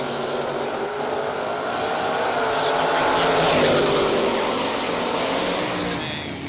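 A Ford Mustang drag racing car roars at the track, a broad engine noise that swells toward the middle and eases off, while an announcer talks over it.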